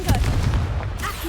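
A Confringo fire spell blasting in the Hogwarts Legacy video game, a short, loud booming burst with a rumbling low tail, followed by a brief whooshing flicker.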